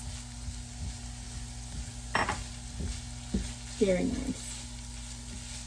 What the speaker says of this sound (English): Not even when you're cooking the sausage and the onion with the oil.